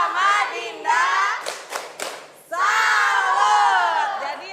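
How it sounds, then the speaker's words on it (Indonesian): An audience at an education launch event breaks into loud cheering and shouting voices with some clapping and thumps, the vocal roar dropping briefly mid-way before surging again. "kasih tepuk salut"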